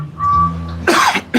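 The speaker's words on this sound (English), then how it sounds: "Apologies to the YouTube riders who heard me coughing there." A commentator at a bicycle motocross race coughs into a close microphone, a loud harsh burst followed by a second short cough after a brief hum.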